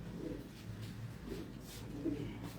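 Pigeons coo softly from small breeding cages with a tray system, making low, repeated murmuring calls at a steady rhythm over quiet background hiss.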